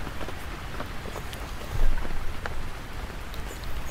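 Steady rain falling on a camping tent, a dense patter of drops with scattered louder taps, close and continuous with no voices.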